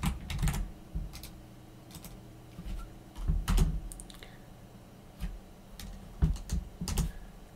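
Computer keyboard typing while entering a terminal command during a ROS 2 Iron install on Ubuntu Linux, heard as close, irregular bursts of clicky keystrokes with short pauses between them and no speech.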